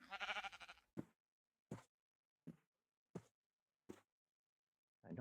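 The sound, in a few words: sheep bleating in Minecraft video game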